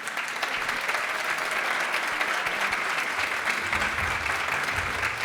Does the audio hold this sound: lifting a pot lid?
no